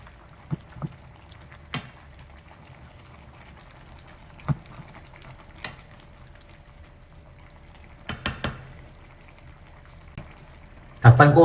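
Chicken tinola soup with native free-range chicken and pechay leaves simmering in a covered pot, a soft, low bubbling broken by scattered small pops and a louder clatter near the end.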